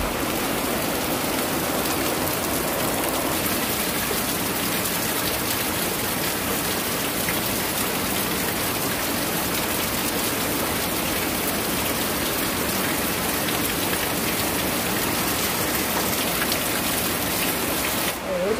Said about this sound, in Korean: 뭐야, 왜 이렇게 비가 오는 거야?